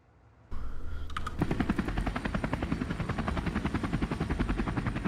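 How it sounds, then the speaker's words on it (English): Video-game helicopter from the Starbound Old War Armory mod: a loud, steady rotor chop with a fast rhythmic thumping that starts abruptly and continues unbroken, alone without talk. "let's listen to the helicopter sound."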